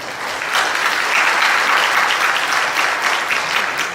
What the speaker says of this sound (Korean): 우리 다시 한번 따뜻한 박수.